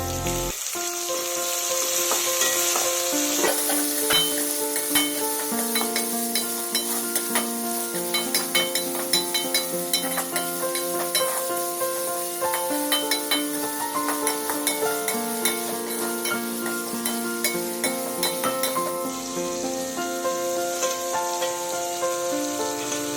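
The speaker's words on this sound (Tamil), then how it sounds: "தக்காளியும் சேர்த்து நல்லா வதக்குங்க." Tomatoes sautéing with curry leaves in a pan for sambar rice, a steady close sizzle under repeated scraping and clinking stirs of a spatula, with no talking.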